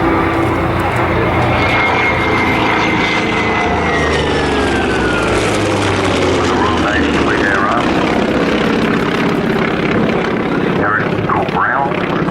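A Grumman Wildcat propeller warplane flies at the Flying Legends 2014 airshow, its engine droning loud and steady throughout with a pitch sweep as it passes, while a commentator talks over it.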